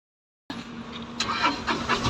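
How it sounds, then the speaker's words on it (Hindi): A Mahindra Supro Profit truck's engine starts after a moment of silence and settles into a steady idle close by, with a brief sharp burst as it catches; no one speaks. "तो गाड़ी हो गई स्टार्ट"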